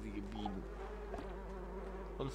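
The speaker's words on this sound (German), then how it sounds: "Boah, riesige Bienen." Giant bees in the video game Donut County give a steady, droning insect buzz with slight swells in pitch, up close and continuous across a short stretch.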